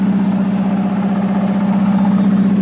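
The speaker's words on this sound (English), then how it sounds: "Oh, there's a little bit of exhaust leak today." A car engine idles steadily up close, a low continuous rumble with a faint rhythmic puffing and ticking from a leaky exhaust.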